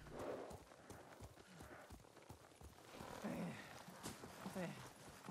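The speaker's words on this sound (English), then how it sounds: "You just sat on a horse." Horse hooves clip-clopping at a steady riding pace in Ghost of Tsushima, mixed with game music and character voices talking over the hoofbeats.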